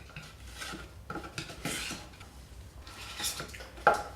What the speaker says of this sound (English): we're just going to scrape down the sides